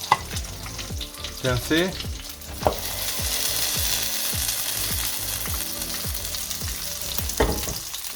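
Cheese bread fries in a pan, giving a steady close sizzle with scraping and turning noises near the start, while a voice briefly speaks.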